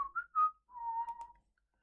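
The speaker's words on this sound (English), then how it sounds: "I hope that whistle wasn't loud." A person whistles a few short, wavering notes followed by one longer held tone, faint and close, with no talking.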